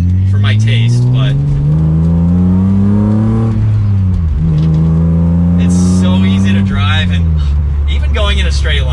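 A 1996 BMW M3 E36 inline-six engine pulls loudly through the gears on a test drive, its drone rising steadily, dipping at a shift and climbing again, with someone talking over it throughout.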